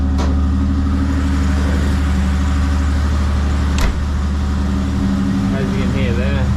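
A Holden LH Torana engine idles loudly and steadily after warming up on the choke, a deep even rumble with a couple of sharp clicks, while a person speaks faintly near the end.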